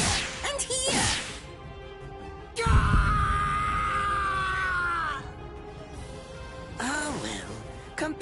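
A man screams in pain in the Bleach Rebirth of Souls video game, loud sustained yelling and groaning lasting several seconds, with shorter cries before and after.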